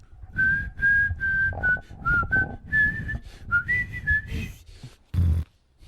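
A person whistles a bouncy tune, the notes rising and falling in short connected phrases, fairly close and clear, ending with a brief thump.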